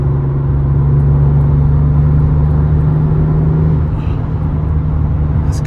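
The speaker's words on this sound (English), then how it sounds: "Car is so much fun on the highway." A 2019 BMW i8 Roadster cruising on a highway, a steady close cabin drone of engine and road noise with a sustained low hum that fades slightly toward the end.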